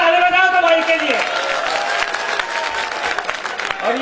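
Audience at a poetry recital breaking into applause, clapping swelling after a voice on stage speaks, then continuing as a dense crowd patter before the voice returns.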